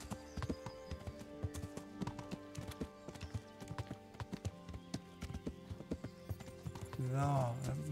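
A horse's hooves clip-clop steadily in Kingdom Come, with a quick, even rhythm of close taps on hard ground. A voice speaks over it and a horse snorts near the end.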